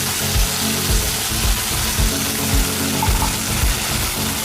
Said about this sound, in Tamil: வாட்டர் ஆட் பண்ணிக்கிறேன்.